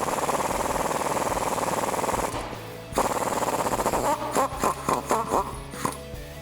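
Socket and wrench work on a sway bar end link nut during a front leveling kit install on a 2007-2018 Chevrolet Silverado or GMC Sierra, heard as a steady buzzing power-tool whir, then a pause and a run of short stuttering bursts.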